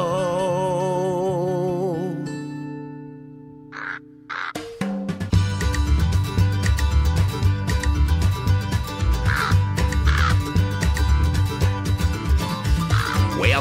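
A crow caws in loud, harsh repeated calls over busy background music, the cawing prominent and close after a brief sustained tone at the start.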